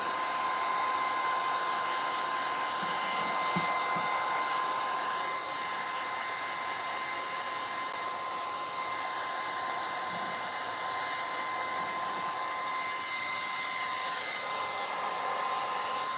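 A hair dryer blows a steady, even whoosh with a constant whine while drying fresh paint, running continuously and close by with no talking.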